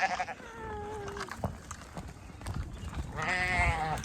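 Sheep bleat nearby on a farm, one at the start and another near the end, with rustling and outdoor movement in between as they are led uphill.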